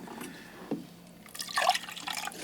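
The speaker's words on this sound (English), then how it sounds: "I'm going to rinse my paper, empty my water container one more time." Water is poured out of a container used for rinsing a watercolor brush, giving a faint, close splash and trickle that swells for a moment near the middle and then fades into soft dribbling.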